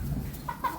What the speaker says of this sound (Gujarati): બધા કુકડો પકડવા હે અમારે